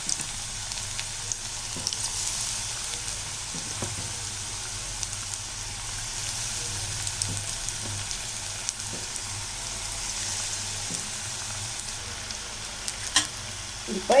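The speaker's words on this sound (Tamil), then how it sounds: "இப்போ இருந்த மாவையெல்லாம் நம்ம போண்டாவாக போட்டுட்டோம்" Maida bonda batter deep-frying in hot oil, a continuous soft sizzle and crackle with small pops throughout, moderately quiet and with no talking.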